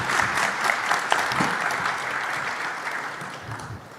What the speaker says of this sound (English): Please join me and give a big round of applause to our speakers.